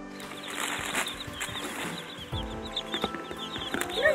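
Baby Barred Rock chicks cheep and peep repeatedly at close range, a busy overlapping chorus of high chirps with some handling noise.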